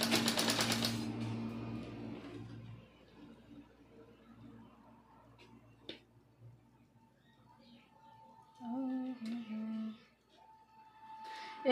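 A sewing machine stitches folded, cut cloth in a burst of rapid mechanical whirring near the start, then it stops and the room falls mostly quiet with faint sounds and brief tones.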